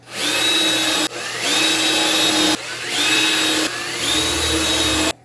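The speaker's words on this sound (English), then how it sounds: "I'm going to put some pilot holes in here." A power drill bores pilot holes in wood for a table-saw crosscut sled, running in four close, loud bursts with brief pauses between them as the motor revs up and steadies at a high whine.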